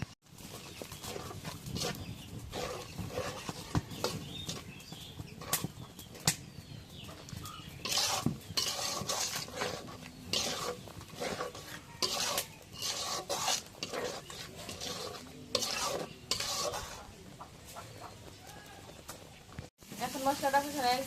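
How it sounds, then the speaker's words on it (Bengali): Spices with turmeric powder being stirred in a pot for spicy chicken biryani, giving irregular metal-on-metal scrapes and clinks of a spoon against the pan over a faint sizzle, close and moderately loud. "এখন একটু নাড়া দিয়ে দিই।"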